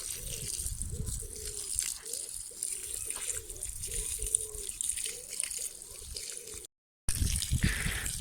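Water from a garden hose splashing onto a statice plant in a garden, a steady close trickle and patter with a faint pulsing rhythm, cutting out briefly near the end before resuming.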